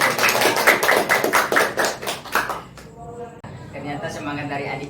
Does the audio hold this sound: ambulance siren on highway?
no